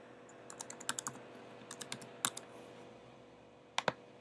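Someone enters a username and password on a computer keyboard, producing sparse, close keystroke clicks in short clusters with pauses between, then a final pair of sharper taps. No one speaks.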